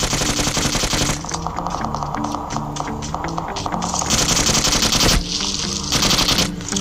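Gunfire from the video game PUBG Mobile comes as rapid automatic bursts of loud, repeated shots, with a short pause and then more firing.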